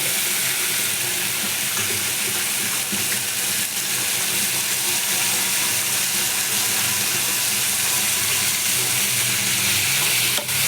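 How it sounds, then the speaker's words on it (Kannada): Grated radish sizzling and frying in a hot pan with chilli powder, a steady loud hiss and crackle with faint stirring throughout. "ಇವಾಗ ನಾನು ತುರಿದಿಟ್ಕೊಂಡಿರುವಂಥ ಮೂಲಂಗಿನ ಸೇರಿಸ್ಕೊಳ್ಳೋಣ."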